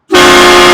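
Train horn fitted to a 2025 Ford Roush truck on a separate switch, blasting a loud, steady chord at close range that sounds from a sharp onset and holds unbroken.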